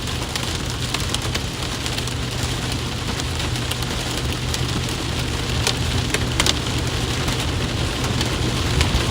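Rain and hail drum steadily and loudly on a car roof during a storm chase on the ground near Tennyson, Saskatchewan, a dense continuous patter with sharper ticks scattered throughout.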